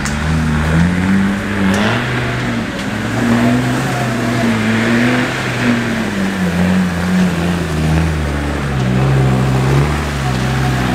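Land Rover engine labouring while driving off-road at a pay-and-play site, a steady loud droning rumble with slight rises and falls in revs throughout, close by, with no talk over it.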